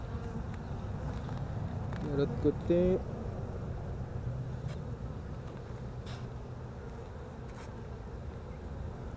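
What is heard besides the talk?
honeybees buzzing during spring hive inspection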